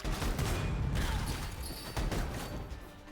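Rapid bursts of video game gunfire from chain-slung guns crackle in dense, overlapping volleys, loud and close, with busy in-game clatter underneath.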